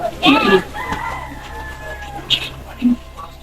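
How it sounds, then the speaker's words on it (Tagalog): Chickens on a Filipino farm with a rooster crowing close by, a long drawn crow followed by short clucks, while people talk nearby. "tignan muna natin guys yung mga manok."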